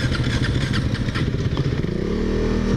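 A KTM Duke 390 motorcycle in third gear sputters and stalls while trying to re-accelerate, a loud close rough engine clatter that fades into a lower uneven rumble.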